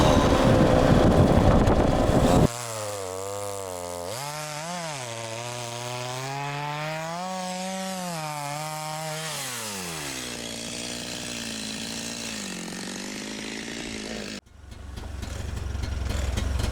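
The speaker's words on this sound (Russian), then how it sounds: "Пилу надо править, криво пилит." A chainsaw with a badly sharpened chain that cuts crooked and runs wet from snow saws through wood, its engine whining and bogging as the pitch rises and falls for about twelve steady seconds before cutting off abruptly.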